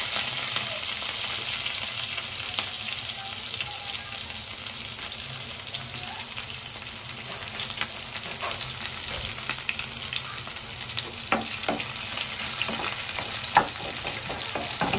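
Green chillies and onions fry in a pan with a continuous, loud, close sizzle and occasional scraping and stirring clicks running the whole way through, with no talking.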